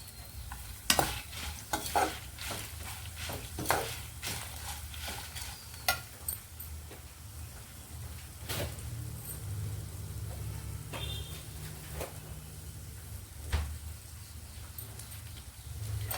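Garlic and tamarind frying in a pan while being stirred, with a quiet continuous sizzle broken by repeated scraping and clinking of the spoon against the pan, close by.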